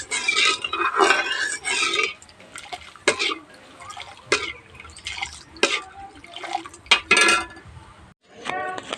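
Sugar syrup being stirred in a metal pan for jalebi, giving scattered clinks and scrapes of a utensil against the pan with light liquid sloshing, close and intermittent, with brief pauses between strokes.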